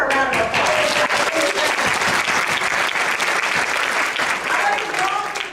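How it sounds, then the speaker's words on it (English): An audience claps loudly for a woman, a dense, sustained roar of many hands that holds steady for several seconds before easing off at the end. "let's give her a round of applause"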